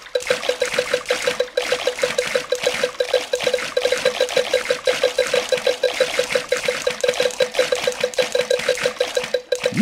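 Quick, rhythmic cartoon splashes from a Peppa Pig swimming video game repeat steadily, like rapid swimming strokes, each with a bright, bubbly pop.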